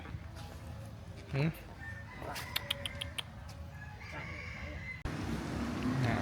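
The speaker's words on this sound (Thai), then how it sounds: "โอ้ยน้องไก่เยอะจังนี่มีกี่ตัวเนี่ย" Chickens cluck and roosters crow in a flock at a temple site in Ayutthaya, Thailand, with a short burst of sound early, then repeated crowing calls and clucks over outdoor background noise.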